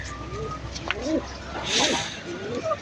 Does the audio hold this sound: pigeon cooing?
yes